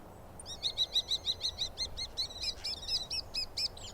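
A small bird perched on a branch gives a rapid series of bright, repeated chirps, about a dozen evenly spaced notes, clear and fairly close over a soft background hiss.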